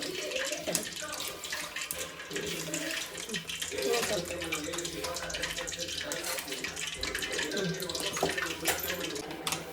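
Water runs and splashes as it is poured into chakli dough for kneading, a steady close trickle under a speaking voice.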